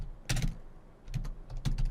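Typing on a computer keyboard while naming a workflow in an automation tool dashboard: three close bursts of rapid key clicks separated by short pauses, alone with no talk.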